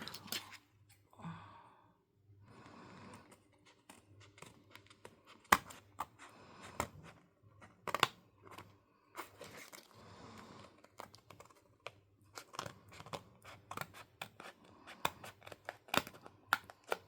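Scissors cut paper for a junk journal, with scattered crisp snips and rustling paper handling, quiet and close, spread irregularly throughout.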